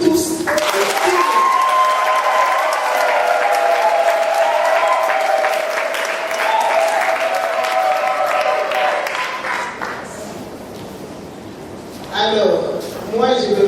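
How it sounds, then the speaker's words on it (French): An audience applauds at a midwives' oath-taking ceremony, sustained clapping for about nine seconds with a speaker's voice over it, then fading before a brief renewed burst of clapping near the end. "Je peux demander d'applaudir pour vous tous."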